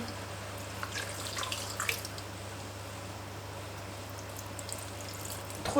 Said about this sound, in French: Donc j'ajoute mon cube de bouillon. Et j'ajoute mon eau.